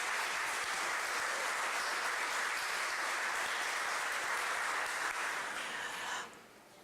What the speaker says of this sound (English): Let's give another round of applause to our talented students and staff.